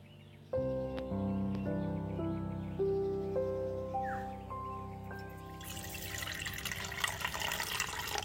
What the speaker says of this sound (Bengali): এই জল দিলাম আর দুটো হলুদ ভিজিয়ে দিলাম